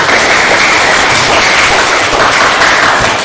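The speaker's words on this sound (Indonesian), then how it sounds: "tepuk tangan untuk kita semua" A vocational school class of automotive students bursts into applause, a loud dense wash of clapping that holds steady throughout without a break.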